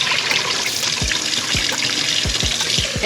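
Cold tap water trickles and splashes steadily as rice is rinsed, with soft sloshing and a few low knocks from handling the grains and bowl; no voices.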